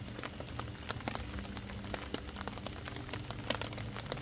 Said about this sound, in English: Well, it started raining again.